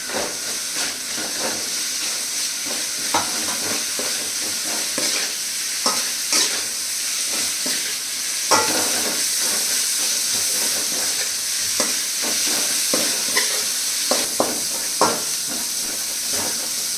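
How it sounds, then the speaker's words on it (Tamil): Onions sauté in a pan for a South Indian pepper chicken, giving a steady close sizzle and hiss broken by scraping stirs of a spoon, with no one speaking. "வெங்காயம் வதங்கிடுச்சு."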